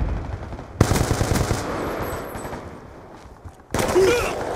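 Automatic gunfire in a Black Ops 2 multiplayer match comes in loud, rapid bursts, one at the start and another near the end, with quieter game ambience between them and no talking.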